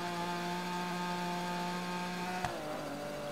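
A rally car engine in the racing video game Gravel, droning at a steady high buzzing pitch much like a chainsaw, with a brief sharp knock and a dip in pitch as it shifts or lands, no talking over it.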